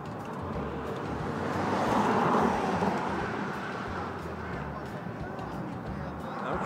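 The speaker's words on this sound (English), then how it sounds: "And you hear traffic behind us." Traffic rumbles across a busy bridge near Hoover Dam, a steady wash of road noise that swells as vehicles pass nearby and then eases back, heard from a short distance.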